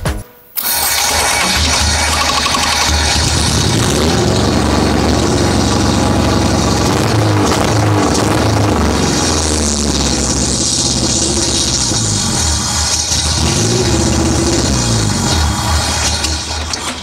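Nissan Skyline GT-R engine with a troublesome throttle position sensor, running loud and close for the whole stretch, its note rising and surging in rough revs with a brief dip near the start.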